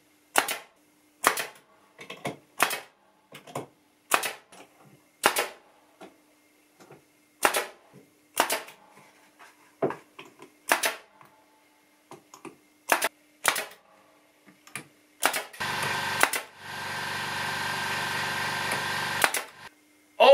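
A staple gun fires into wood while a display shelf for trays is glued and stapled together: a series of about fifteen sharp, close snaps at an irregular pace, followed by a steady hiss lasting several seconds near the end.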